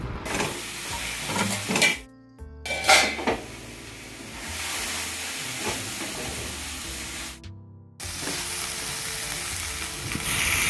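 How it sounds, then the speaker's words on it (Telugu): Lemon juice goes into a hot tempering, which sizzles and hisses loudly in a steady wash with two brief breaks, and faint music plays beneath. "నెక్స్ట్ ఈ తాలింపులో నిమ్మరసం వేస్తున్నాడు"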